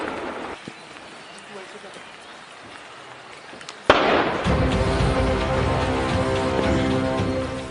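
Gunfire during an army encounter with militants in Handwara starts as a faint, distant crackle, then turns abruptly into a loud, sustained burst of rapid shots and rumbling that continues to the end.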